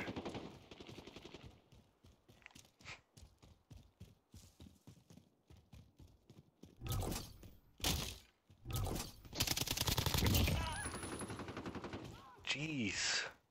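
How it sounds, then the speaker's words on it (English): A 12-gauge shotgun fires in a video game: a few loud, sharp blasts in the second half, with voices talking in the quieter stretch before them. "Alright, that's a 12-gauge shotgun."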